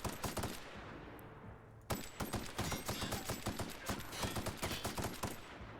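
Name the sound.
assault rifle gunfire in the video game The Outer Worlds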